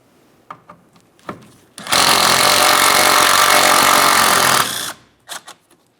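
An impact or power tool removing a 13mm bolt from the emergency brake cable at the rear suspension of a 2012-2018 Nissan Altima, with a loud, steady whir lasting about three seconds and a few clicks and clanks before and after it.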